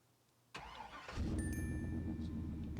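A truck engine starting in Farming Simulator 25: a sharp starter click, a brief crank, then the engine catching and settling into a steady mid-pitched idle with a faint electronic tone above it, close and clear.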